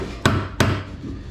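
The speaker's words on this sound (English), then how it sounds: "you may need your hammer to assist you to drive them in" Two sharp metallic hammer taps, evenly spaced, driving parts into an AMF bowling front roller assembly during a rebuild, close and loud, each followed by a short ringing decay with no speech.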